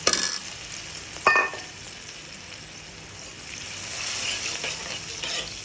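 Small shrimp fry with a little water in a pan, giving a steady close sizzle with a few scraping stirs near the start, and the hiss swells slightly toward the end.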